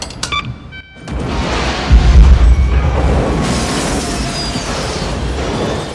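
A rocket explosion from the 1996 film The Rock bursts in with a heavy booming blast after a brief quiet moment, followed by a sustained, loud rumbling roar and crackling debris.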